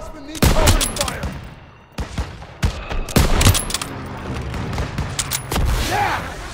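Heavy gunfire from Call of Duty: WWII, with bursts of covering fire and loud booming shots around a town square battle, dense and close, with shouted voices in between.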